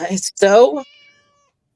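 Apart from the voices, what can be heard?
cat meowing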